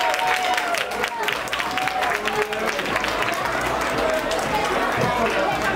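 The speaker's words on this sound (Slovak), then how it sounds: "Materská škola Špačince, veľký potlesk!" Audience at a kindergarten award ceremony in Špačince applauding loudly and continuously, a thick roar of clapping mixed with crowd chatter and voices.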